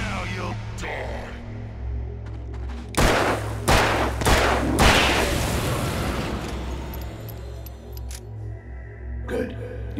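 Gunfire from a handgun in the video game Alan Wake: a short volley of four or five sharp, loud shots cracks over a steady low droning rumble, then the scene settles into the ambience, with a faint tonal shimmer.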